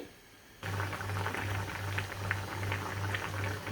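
Rohu fish curry gravy cooked with red amaranth leaves bubbling steadily in a pot, a continuous close simmering burble with soft pops that begins abruptly after a brief quiet start and runs on alone.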